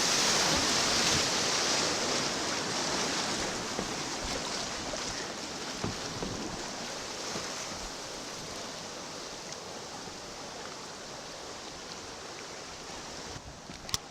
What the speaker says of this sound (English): There we went over the dam.